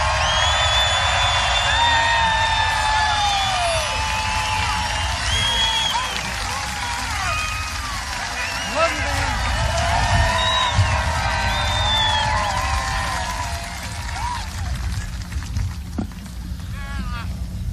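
Large rally crowd in Mobile, Alabama cheering and whooping, a dense sustained roar with scattered shouts and whistles throughout, loud and continuous.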